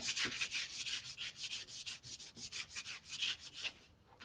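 A sticker is burnished down onto a surface by hand, giving a close, steady run of quick scraping rub strokes in an even back-and-forth rhythm for several seconds.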